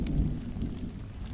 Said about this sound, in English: we watch the rain fall together